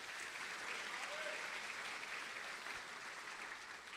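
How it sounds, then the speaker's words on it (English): A crowd at an awards ceremony claps in a dense, even wash of applause that holds steady for several seconds, heard from a distance at low level with no one speaking over it. "Give them a round of applause."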